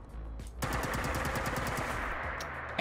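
Rapid full-auto bursts from the X12 Plasma Caster, a split-barrel energy weapon in a Fallout 4 mod, fire in a fast, even stream of close, loud shots after a brief quiet start.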